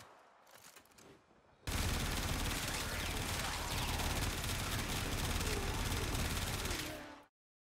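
Telos Boltor, a rapid-fire weapon in the video game Warframe, shooting a sustained, dense automatic burst lasting several seconds, loud and close, then cutting off abruptly.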